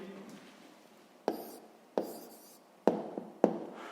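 A pen or chalk writing out a math answer in short bursts, with sharp taps and brief scratchy strokes at uneven intervals in an otherwise quiet room.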